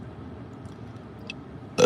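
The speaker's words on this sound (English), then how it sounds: "I'm burping a lot because I'm trying to clear out this painful ass energy" A woman lets out a single short, abrupt burp at the very end, after a stretch of quiet low room hum.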